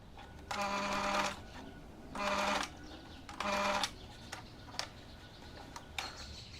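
Sewing machine topstitching an elastic waistband on a puff sleeve dress, running in three steady bursts of about a second each, separated by pauses with light clicks and handling noises, close and without speech.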